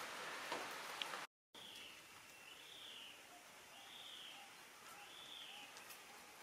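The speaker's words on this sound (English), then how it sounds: "listening to the birds, watching the sunrise. That's a spangled rongo up there." Birds singing at sunrise in spring in Australia, including a spangled drongo: a few faint, evenly spaced rising whistled calls over quiet morning ambience, briefly cut by a short silent gap.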